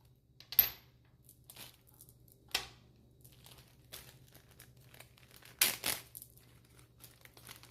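A plastic Ziploc bag being handled, giving quiet, scattered crinkles and rustles with a few sharper crackles between stretches of near silence.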